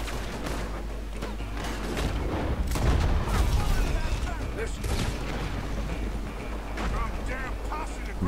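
In the Red Dead Redemption 2 video game, gunfire cracks out in scattered sharp shots and short bursts over a rumbling, noisy background during a gang battle.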